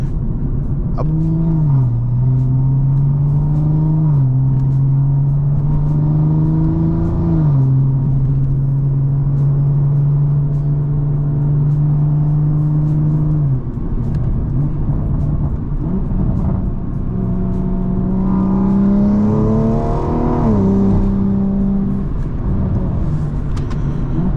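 A 700whp BMW M340i accelerates on the road under partial throttle, its loud engine drone climbing in pitch through several gear changes, each shift dropping the tone before it rises again, close and steady throughout.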